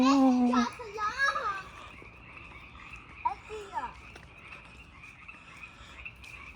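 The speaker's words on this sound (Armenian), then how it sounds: "Գորտերի ձեն ենք լսում։" Frogs croak in a loud, rippling burst at the start, then give scattered, fainter calls over a steady outdoor hiss, with children's voices mixed in nearby.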